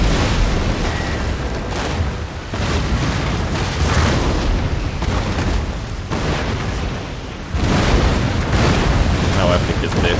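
Broadsides of naval cannons firing chain shot in Empire: Total War as a Great Britain fleet fights at sea, with continuous heavy booming volleys and rolling blasts, a louder fresh barrage late, and a voice talking over it.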